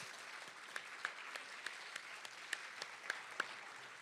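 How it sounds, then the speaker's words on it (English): Scattered clapping from a modest crowd at a National Junior Honor Society induction ceremony, steady with a few sharper individual claps standing out, no voices on top. "Can we have a round of applause for all of our new members?"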